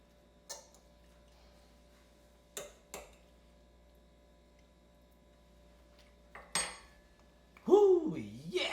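A spoon knocks against a pot of seafood étouffée, a few sparse taps and clinks over a quiet background, with a louder scraping stir at the end.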